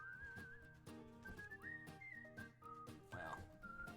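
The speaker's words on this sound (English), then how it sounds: "whistling to work" A person whistles a wavering tune close by, with the melody sliding up and down over a steady, music-like tonal background.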